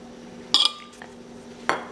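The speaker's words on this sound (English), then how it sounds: "I'm now going to take a pastry blender and blend the butter with the" A pastry blender works butter into a dry mixture in a bowl, giving two sharp metallic clinks against the bowl with a faint scrape between them, close and alone.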